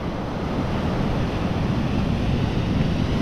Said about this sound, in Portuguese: Aqui nesse trecho as ondas estão um pouquinho mais fortes.